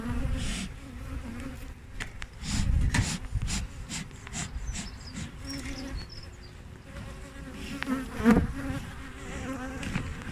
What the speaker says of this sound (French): on entend juste une abeille qui essaye de piquer